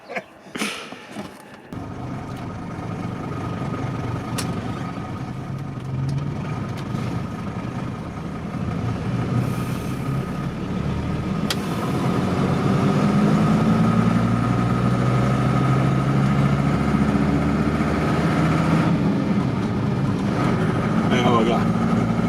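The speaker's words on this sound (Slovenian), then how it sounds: "Lepo motor dela, brez kakih hudih težav" A TAM 100T8 small truck's engine idles and runs steadily, a low rumbling drone that swells slightly louder partway through, with a sharp clunk near the start.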